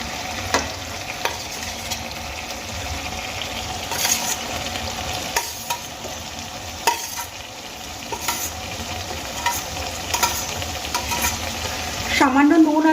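Pre-fried paneer pieces get stirred into potatoes and peas frying in a pan, with a soft steady sizzle under repeated scraping strokes of a spatula and a louder bubbling surge at the end.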